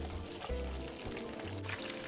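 Oil bubbles and sizzles steadily as chunks of pork belly deep-fry, a dense crackling hiss with a low rumble underneath.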